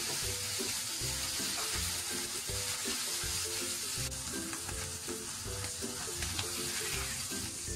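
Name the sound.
chicken breast pan-frying in oil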